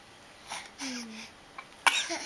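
A small child sneezes once, short and sharp, amid faint indoor background and a brief vocal sound.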